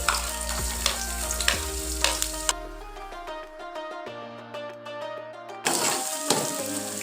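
Chopped onion sizzles as it fries in a spoonful of hot oil in a pan. A loud, close hiss lasts for a few seconds, fades into a tonal background, then the sizzling returns near the end.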